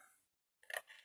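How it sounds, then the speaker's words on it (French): Scissors make one quick, quiet snip as they cut along the longest side of a piece for a box craft, after a moment of near silence. "on coupe du côté le plus long"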